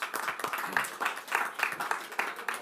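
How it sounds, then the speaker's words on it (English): A small audience at a school district board meeting claps steadily for a few seconds, a moderately loud, uneven patter of hands with no voices over it. "Thank you for clapping there, Dr. Cam, I appreciate that"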